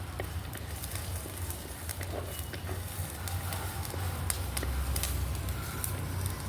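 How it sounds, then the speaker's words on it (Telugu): Ginger, asafoetida and lentils frying in a pan, a soft continuous sizzle with light crackles and occasional ticks, low and fairly quiet with no talk. "ఇవన్నీ బాగా ఫ్రై అయ్యాయి కదా."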